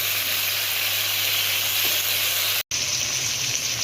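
Flat beans (sim) frying in a pan, covered, over low heat, giving a steady broadband sizzle and hiss that runs throughout with a brief cut near the end, no talking.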